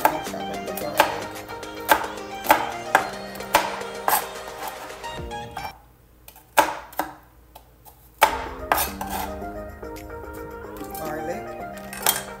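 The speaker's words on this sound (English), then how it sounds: "I'm gonna chop up the garlic." A knife chops garlic on a cutting board: a run of crisp, evenly spaced taps, a short pause with clinking, then another quick burst of chopping. The sounds are close and clear, with no talking.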